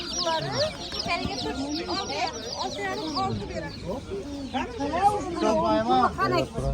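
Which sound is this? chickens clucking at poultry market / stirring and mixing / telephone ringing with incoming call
chickens clucking at poultry market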